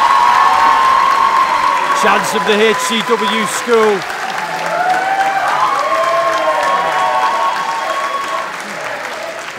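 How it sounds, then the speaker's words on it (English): Loud, steady applause from a wrestling show crowd at an HCW event, with a few whoops and cheers, while an announcer talks over it throughout. "Round of applause."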